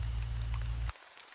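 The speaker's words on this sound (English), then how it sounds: "letting the sound of the rain pull me under" Steady rain falls for a short stretch, a soft broadband hiss with scattered drop patter and a low rumble underneath, cutting off abruptly partway through to leave only faint, sparse drips.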